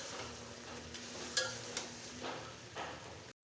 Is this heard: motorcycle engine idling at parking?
no